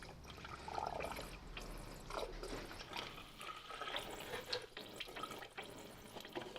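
Coolant flowing into the cooling system of a Mini One R50/R52 Tritec engine during a timing chain job, a steady watery trickle with gurgles as trapped air escapes, fairly faint and continuous with no voices.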